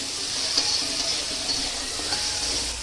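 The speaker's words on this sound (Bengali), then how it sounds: "নুন আর হলুদ, অল্প একটু হলুদ দিয়ে এটাকেও একটু ভাজা ভাজা করে নেব" Pumpkin pieces frying in a pan with salt and turmeric, giving a steady close sizzle with faint stirring ticks throughout, no voices.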